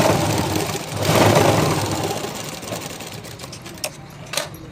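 Sewing machine stitching fabric: a loud, close mechanical whir that runs for a few seconds and then eases off, followed by two short clicks.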